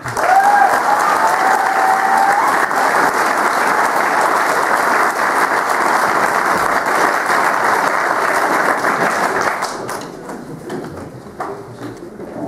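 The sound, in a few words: audience applauding for the teachers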